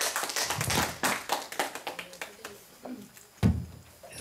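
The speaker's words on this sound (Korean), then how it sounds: "박수로 맞이해 주시기 바랍니다." Seminar audience claps in welcome of a discussant, a run of distinct hand claps that thins from a lively patter to a few scattered slaps, with one louder clap near the end.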